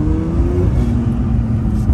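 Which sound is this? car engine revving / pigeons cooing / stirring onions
car engine revving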